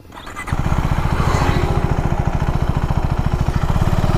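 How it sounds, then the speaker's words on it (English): A 2025 KTM 390 Adventure motorcycle rides along a highway, its engine note starting quieter, then rising abruptly into a steady, loud, closely recorded drone with a rapid even pulse and constant wind rush. "this is the highway review video of the new KTM 390 Adventure"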